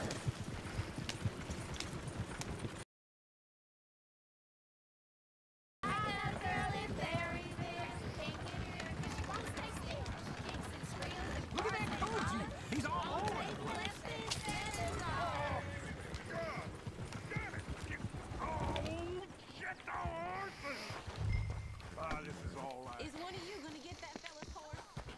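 In Red Dead Redemption 2, horse hooves clip-clop at a running pace with an occasional whinny, steady and close beneath someone talking throughout, after a brief silent gap near the start.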